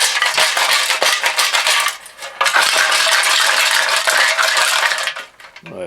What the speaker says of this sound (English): we've got some nuts and bolts in it. We're going to shake it around.